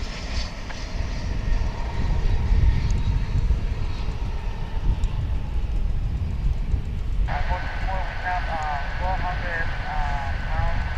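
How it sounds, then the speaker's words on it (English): American Airlines Boeing 737 jet taking off at Dallas Fort Worth, a sustained engine roar across the whole stretch with a rising whine partway through, loud and fairly close, with no talk. "that American Airlines flight is off to Kansas City"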